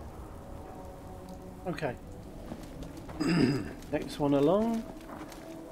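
Steady rain patters in the Fallout 4 game world, a continuous wash that sits under a voice speaking intermittently over it.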